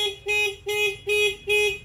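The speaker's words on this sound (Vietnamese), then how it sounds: "bật cảnh báo, kêu kèn xe và nó tắt luôn động cơ xe" A 2016–2018 Honda AirBlade scooter's anti-theft alarm honks the horn in four short, loud, evenly spaced blasts with brief gaps, heard close and alone.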